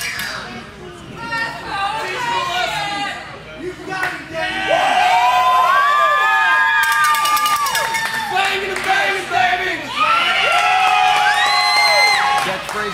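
Wrestling crowd at a tag-team match featuring Gangrel, loud and sustained, with many voices yelling, cheering and chanting together in rising and falling waves that swell louder midway and stay strong to the end.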